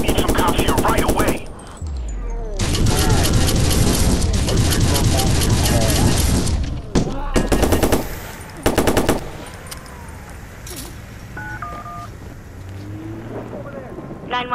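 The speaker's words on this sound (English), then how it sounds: "He's firing a gun!" Bursts of automatic gunfire in Watch Dogs, loud and dense rapid volleys with short gaps, mixed with game ambience and a later stretch of quieter background sounds.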